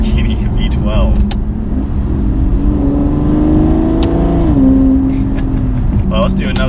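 A V12 engine in an Aston Martin Rapide pulls hard in second gear, a loud steady cabin roar rising in pitch, with a brief dip around the shift and clicks from the cabin.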